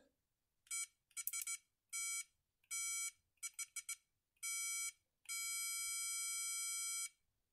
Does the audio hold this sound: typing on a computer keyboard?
no